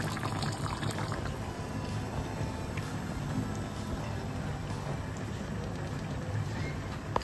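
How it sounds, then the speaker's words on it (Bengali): Goat meat bubbling in a pot on the stove, a faint continuous burble and simmering rush with small pops, close and steady throughout, no talking. "টকবক করে ফুটছে খাসির মাংস"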